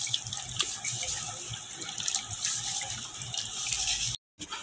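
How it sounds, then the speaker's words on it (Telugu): Raw chicken is washed under a running kitchen tap, water splashing and gushing steadily into a sink with uneven spattering as the pieces are handled, close and fairly loud, with a brief cut near the end. "నేనైతే చికెన్ కడిగేసి పెట్టేసిన"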